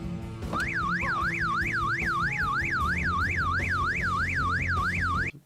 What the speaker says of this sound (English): that car alarm going off in the beginning made me jump